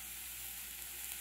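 Sausage (linguiça) frying in oil in a pan, giving off a steady, even sizzle that holds at a low, constant level throughout with no talking.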